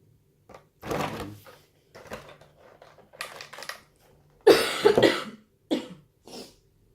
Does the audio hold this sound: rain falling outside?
no